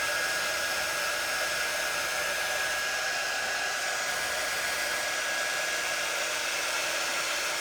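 A hair dryer blows steadily to dry a coat of nail polish, a constant close whooshing roar with a thin whine running through it for over seven seconds, with no talk.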